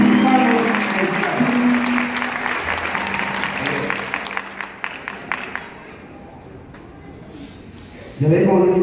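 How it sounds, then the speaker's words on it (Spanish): An audience at a Mexican son jarocho performance claps for the musicians in a dense round of applause that thins out after several seconds, with voices and music over the clapping. "Aplausos a tu papá."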